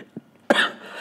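A single sharp cough bursts out close to the microphone after a brief soft throat sound, followed by a fading breathy tail in a quiet indoor room.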